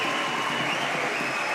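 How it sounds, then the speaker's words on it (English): Crowd at a wheelchair badminton doubles match cheering and applauding as players finish, a dense steady roar of claps and voices filling the arena, loud and continuous. "you can hear the crowds cheering as the players come to finish their match"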